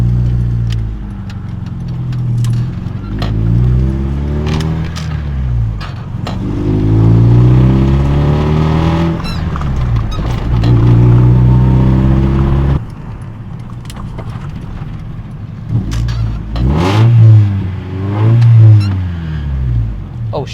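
Car engine revving hard while left in neutral during an attempted rev-match into second gear, loud sweeping rises and falls of pitch repeated several times, with a short drop in level midway.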